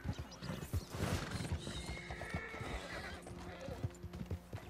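A horse in Red Dead Redemption 2 gallops with rapid rhythmic hoofbeats and whinnies loudly near the start, with busy in-game ambience and rumbling throughout.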